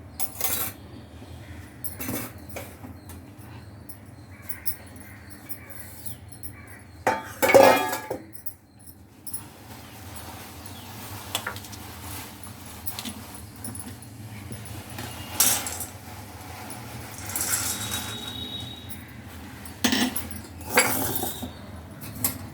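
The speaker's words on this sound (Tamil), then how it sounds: "இப்போ மசாலா போட்டு நம்ம மிக்ஸ் பண்ணலாம்." Fried split chickpeas (chana dal) being tossed with masala in a metal vessel, giving scattered clinks and dry rattling scrapes at an uneven pace, fairly close and moderately loud, with no talking.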